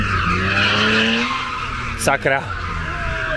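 Tires screech and skid loudly during a car ride, a sharp squeal over a steady engine drone for about half a second, with a short exclamation from someone inside the car.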